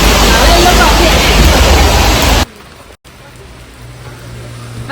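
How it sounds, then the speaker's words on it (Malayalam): Heavy rain pours outdoors as a family heads home after dinner, a dense, loud, steady hiss that cuts off abruptly halfway through, leaving only faint background. "നല്ല മഴയുണ്ട് ഇപ്പോൾ"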